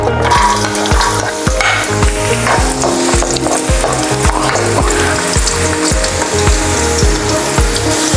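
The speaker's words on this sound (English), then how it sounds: "Now that our wok is hot, we're going to add in some oil. Then saute our carrots." Carrots sauté in oil in a hot wok, a loud continuous sizzle broken by a fast, regular rattling scrape of stirring against the metal, repeating roughly twice a second throughout.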